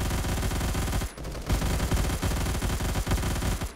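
Rapid automatic fire from an M231 rifle in Roblox Phantom Forces, with loud sustained bursts that break off briefly and then resume as steady rhythmic shots.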